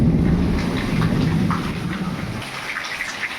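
A heavy rainstorm pours down on farmland, giving a dense, steady patter of rain with a low rumble of thunder under it early on. The downpour eases slightly toward the end.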